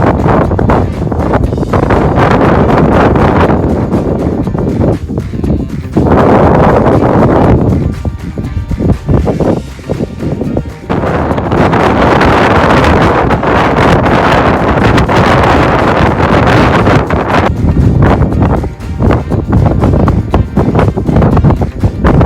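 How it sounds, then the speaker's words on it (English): Strong wind on a seaside links golf course, loud continuous buffeting and roar across the mic that surges and eases but never stops. "As you can tell, it's very, very windy."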